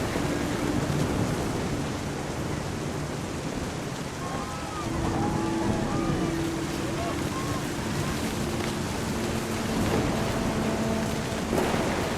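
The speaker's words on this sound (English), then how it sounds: "The thunder sounded much too close and full of angry power." Rain and a low thunder rumble in the video game What Remains of Edith Finch, steady downpour with deep rolling thunder, a narrating voice speaking over it and faint music.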